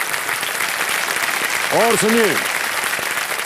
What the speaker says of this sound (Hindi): सम्मान भरी तालियों के साथ स्वागत किया जाए